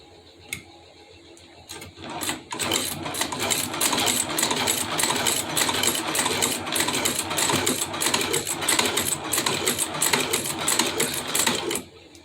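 Leather sewing machine stitching steadily for about ten seconds, a dense continuous mechanical chatter of needle strokes that starts after a brief bump and stops abruptly near the end, loud and close with no talking.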